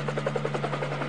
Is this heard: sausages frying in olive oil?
no